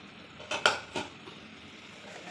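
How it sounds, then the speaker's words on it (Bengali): Lid lifted off a cooking pot on a home stove, a few quick metallic clinks and a scrape within a second, close and soft against a quiet kitchen hiss. "ঢাকনাটা উঠিয়ে দিলাম আবার"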